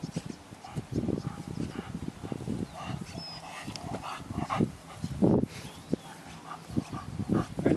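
A Dutch Shepherd in guard and protection training makes rough, scuffling bursts and sharp barking or growling sounds, close and uneven, with handling noise and no clear speech.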